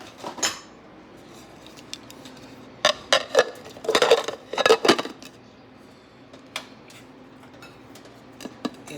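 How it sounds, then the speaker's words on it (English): A lid is set onto a crock pot with several sharp clinks and clatters of ceramic and metal clustered together, followed by a few scattered light taps in a quiet room. "So I'm going to put the lid on it."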